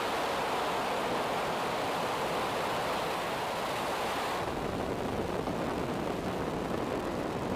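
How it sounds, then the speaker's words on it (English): A SpaceX Falcon 9 rocket roars at liftoff, a dense, continuous broadband rumble that stays loud and steady from start to finish, with no voices over it. "Ignition and liftoff of Falcon 9"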